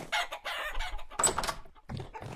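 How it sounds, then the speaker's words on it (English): Minecraft chickens clucking in short bursts with a few louder squawks, close and fairly loud, with some game rustle between calls and no talking. "chase the chickens around."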